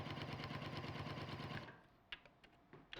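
Sewing machine stitching along a marked line on quilt pieces, a fast rhythmic mechanical whir for about a second and a half, then stopping, followed by a few faint handling clicks.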